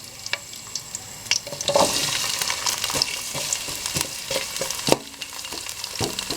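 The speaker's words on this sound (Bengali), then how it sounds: "এগুলো আমরা ব্রাউন কালার করে ভেজে নিব" Chopped onions fry in oil with cinnamon pieces in the pan, a steady close sizzle broken by repeated clinks and scrapes of a stirring spoon, with no talk.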